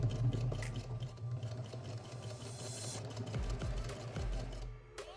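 A sewing machine stitching slowly around a curve in fabric, its needle running in a steady, close, continuous whir.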